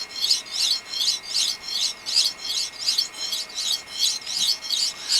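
A blade stroked back and forth on a sharpening hone during chip repair, producing a steady rhythmic series of about a dozen close, raspy scraping strokes at an even pace, with no talking.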